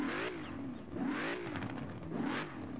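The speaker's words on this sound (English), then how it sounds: "Let's have a listen to this car now." A Deberti Design Mustang in Forza Horizon 4 revs repeatedly, its engine note climbing and falling in three smooth sweeps, loud and close with no talking.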